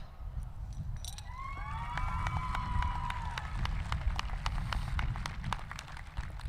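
A large crowd at a high school graduation, class of 2021, claps and cheers in a dense, continuous wash of applause with sharp individual claps, while whistle-like tones glide across it early on.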